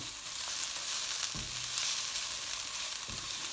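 Ingredients for a quick biryani fry in a pan, giving a continuous close, loud sizzle with a couple of soft stirring thumps.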